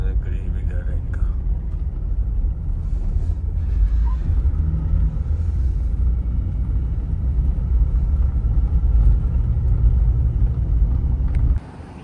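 A car engine rumbles steadily at close range, a deep continuous drone that carries on for about eleven seconds before cutting off abruptly, with faint background sounds over it.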